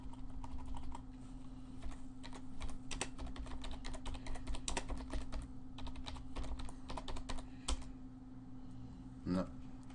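Steady typing on a computer keyboard, a dense run of quick close-up key clicks with small pauses over about ten seconds, with no one speaking.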